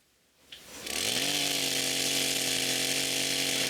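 A chainsaw starts with a pull and a brief sputter, then revs up into a loud, steady high whine as it cuts branches from a fallen tree at a chalet in a snowy April woodland, sustained and close.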